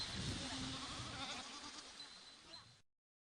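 Goats bleat on a farm with newly sown pasture: a few wavering bleats rise over faint background sound and end after a few seconds, with no talking.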